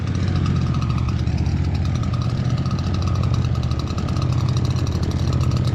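A gas-powered leaf blower runs continuously while clearing a backyard, with a steady, loud engine drone close by.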